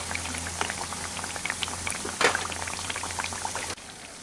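Evening snacks bubbling as they fry in hot oil, a steady crackling fizz with scattered pops that runs continuously, close and fairly loud, before cutting off abruptly near the end.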